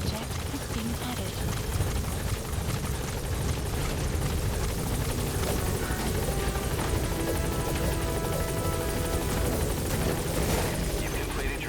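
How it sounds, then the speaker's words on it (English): Support helicopter in Metal Gear Solid V, its rotor roar a loud, continuous wash of noise that fills the whole stretch, with game voices and radio chatter mixed in. "Support helicopter has arrived."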